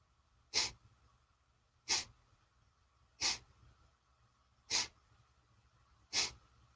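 Kapalabhati breathing: five sharp, forced exhalations through the nose, evenly spaced about every second and a half, close and clear, with near-silent passive inhales between them and no talking.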